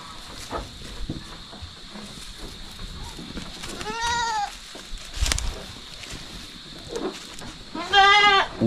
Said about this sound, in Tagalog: Yung kambing natin, oh.